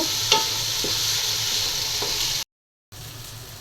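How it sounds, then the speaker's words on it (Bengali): Rice and lentils sizzle steadily as they are stir-fried with spices in oil for khichuri, with a few soft scraping knocks of a spoon in the pot, interrupted by a short gap of silence. "চাল আর ডালটা মশলার সাথে ভেজে নিলাম"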